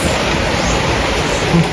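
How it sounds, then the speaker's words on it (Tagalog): Steady rain falls outside a house in a rural province, a dense, even hiss that holds at constant loudness with no voices over it. "Dahil umulan na naman."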